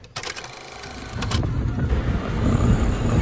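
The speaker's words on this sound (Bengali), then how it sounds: "তাই আমরা অটোতে করে যাচ্ছি" Auto rickshaw starting off, with a click and door-like rattle at the start, then a rising, buzzy engine drone that grows louder and steadier as it drives, heard close up.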